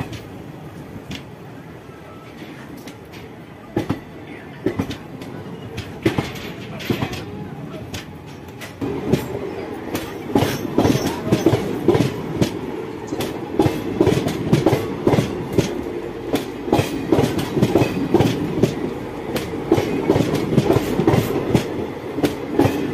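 The Secunderabad–Bhubaneswar Visakha Express runs steadily, wheels clattering in close, rapid repeated clicks over a loud rumbling roar that swells midway, with a voice briefly audible.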